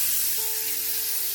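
Spices fry over a low gas flame with a small splash of water for a capsicum and potato dum curry, giving a short, steady, soft sizzle with a faint hum underneath and no voices.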